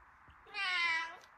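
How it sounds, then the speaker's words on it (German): A single clear meow from a vain house cat, drawn out and close, rising to a tonal cry for about half a second before tapering off. "Bali ist schon so eine richtige eitle Katze."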